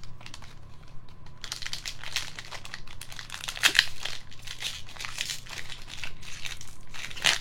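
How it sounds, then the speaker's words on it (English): A foil trading card booster pack is torn and crinkled open close by, a continuous run of crackling, ripping wrapper noise with sharper tears partway through and no talk. "these packs open weird compared to Magic packs"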